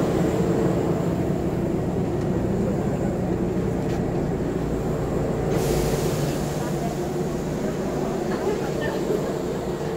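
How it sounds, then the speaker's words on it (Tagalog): A steady, droning rumble of a moving Kintetsu Rail train between Nagoya and Nara fills the space, constant and fairly loud, with faint voices underneath. "Okay, sakay na tayo ng tren."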